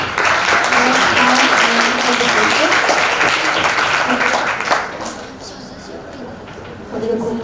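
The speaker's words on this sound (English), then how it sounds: "Now everyone please give warm applause to group 3" A youth festival audience gives loud, dense applause for a group that has just presented in a business idea competition, then the clapping dies away after about five seconds, leaving room noise and a brief voice.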